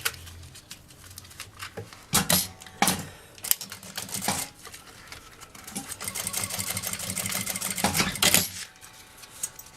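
Sewing machine running in bursts as it stitches a fabric bag strap, with several short loud runs of rapid mechanical chatter and a longer steady stretch near the end, close and alone.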